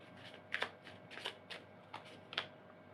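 Tarot cards are shuffled and drawn in a quiet room, a few soft papery riffles and flicks spread unevenly over a few seconds, with no voice.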